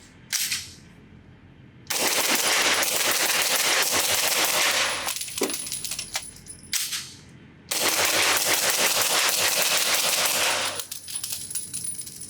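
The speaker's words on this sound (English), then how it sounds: "So when it comes to shooting this gun fast, I have a hard time getting a consistent rhythm with it." An integrally suppressed B&T SPC9 pistol-caliber gun on a Glock lower fires rapidly at an outdoor range in two long strings of quick, irregular clacking shots, with a brief rattle between bursts.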